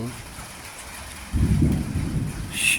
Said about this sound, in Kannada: ಮಳೆ ಸ್ಟಾರ್ಟ್ ಆಗಿದೆ